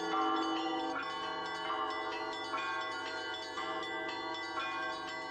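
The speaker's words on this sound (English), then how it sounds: "The art of bell ringing brings together the most well-known ringers from all the world." Traditional bells ringing in Moldova, several tuned bells struck in a rhythmic pattern with overlapping, ringing tones sustaining loudly throughout.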